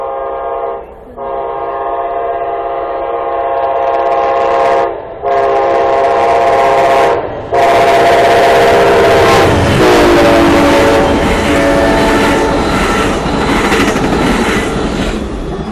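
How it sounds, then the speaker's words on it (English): An Amtrak passenger train passes close by, its horn blaring in several long blasts before the rumbling roar and clatter of the cars builds to a loud, sustained rush. "Got a train coming, and it's Amtrak."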